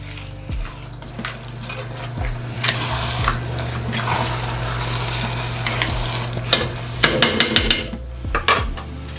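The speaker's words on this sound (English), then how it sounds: "Let's give this a stir." A spoon stirs Southern-style red rice and water in a metal pot, scraping in repeated close strokes with a soft sizzle underneath. A quicker burst of clanking stirs comes near the end.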